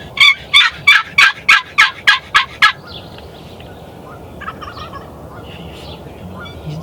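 Massive wild turkey toms gobble in a rapid series of about nine loud, close, rattling calls, followed by quieter outdoor ambience with faint distant bird sounds.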